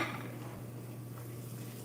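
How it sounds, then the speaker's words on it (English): Sausages sizzle in a pan with a steady, quiet hiss over a low electrical hum, continuous and unbroken. "our sausages are sizzling up nicely"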